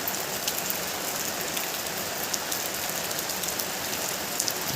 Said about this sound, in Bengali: দেখো দেখো দেখো অনেক সুন্দর অবশ্য রাতের বৃষ্টি।